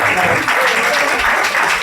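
Audience applauding at a Hindu religious gathering in a temple, dense steady clapping close and loud throughout, with some voices mixed into the crowd noise.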